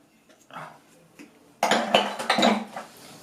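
Potato salad stirred in a bowl, with a few faint scrapes followed by a burst of loud clinking and scraping of a utensil against the dish, close up.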